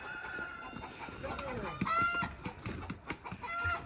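Chickens cluck and squawk close by in short bursts, with a person talking softly now and then underneath.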